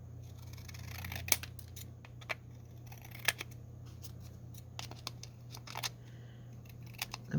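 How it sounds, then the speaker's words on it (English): Scissors trim the edges of thick paper for mini vintage portraits, with short, crisp snips at uneven intervals over a steady low hum. "trim these edges to match closely to it at least"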